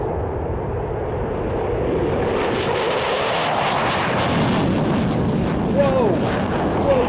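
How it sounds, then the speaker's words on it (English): Loud, continuous roar of an F-15 Eagle fighter jet taking off, building into a rumbling blast, steady and close, with a few faint voices near the end. "you can look at how an F-15 takes off"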